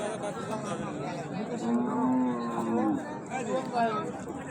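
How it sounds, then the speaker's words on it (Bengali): A cow lets out a long, low moo at a Bangladeshi cattle market, clearly heard over the background chatter of the crowd, while someone talks nearby. "দেখবো আমরা যে পাশের গাভি"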